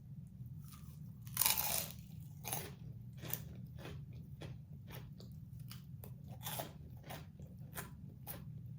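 Close-miked biting and chewing of a giant, crunchy, sweet twisted Taco Bell snack, with a loud bite followed by a long run of sharp, irregular crunches over a low steady hum.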